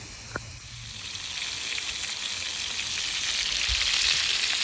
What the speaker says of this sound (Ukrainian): М'ясо у нас чудово смажиться.